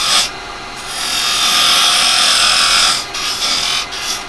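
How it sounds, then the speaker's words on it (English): Parting tool cutting into wood on a lathe while turning craft-fair stock from firewood: a loud, steady rasping scrape lasting a few seconds, easing off near the end with brief breaks, no speech. "I'm going to come in with a parting tool."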